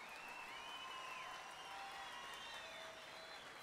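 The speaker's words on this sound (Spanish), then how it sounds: "Fuerte el aplauso, fuerte, fuerte," Audience applause at a stage performance, a dense steady wash of clapping sustained throughout at moderate distance, with no voice on top.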